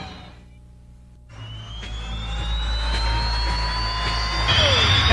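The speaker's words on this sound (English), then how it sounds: "And that's the sound of a jet funny car." A jet-powered funny car drag racer's engine starts from near quiet and swells into a loud, steady turbine roar with a rising whine, growing stronger toward the end.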